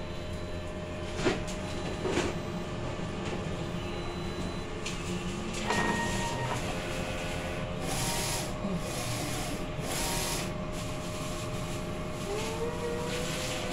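A DTF printer runs a nozzle test, with its print head carriage shuttling and rubbing mechanically, sharp clicks near the start, and brief swells of motor whir later. No one speaks.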